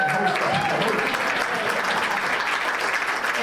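Audience applause fills a tea talk on African American speechmaking, a dense steady wash of many hands clapping at even loudness throughout, with a faint voice briefly audible early on.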